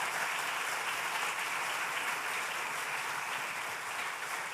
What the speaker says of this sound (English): How about a round of applause for my panelists?